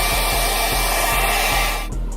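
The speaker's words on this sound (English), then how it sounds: "Take the blow dryer before you tie it down." A blow dryer roars steadily at close range while drying a closure wig, its whine cutting off abruptly near the end.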